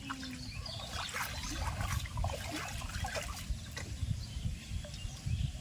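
Water being poured and sloshed while crabs are washed in a village outdoor kitchen, with a soft continuous trickle and splashing close by, faint and uneven, with no one speaking.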